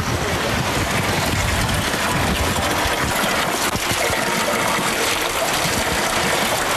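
Running water in the Georgian highlands of Pshavi, a loud, continuous rushing flow that fills the whole stretch with no speech.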